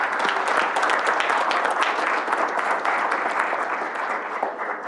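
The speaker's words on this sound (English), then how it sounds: "Let's give Mr. Smith a round of applause." Meeting audience gives a sustained round of applause, dense continuous clapping from a room of people, fairly close and even throughout with no talk over it.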